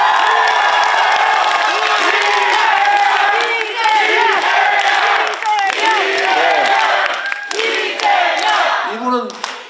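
A large crowd at a Korean political party rally in Jeonbuk shouts and cheers together, loud and sustained, with whoops and voices rising and falling in a dense wall of sound.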